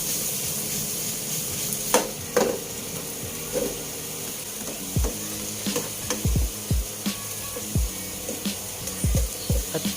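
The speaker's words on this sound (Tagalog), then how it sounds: "And mix well." Egg sandwich filling being mixed in a bowl, a run of close, irregular scraping and thudding strokes that grow busier toward the end over a steady background hiss, with no talking.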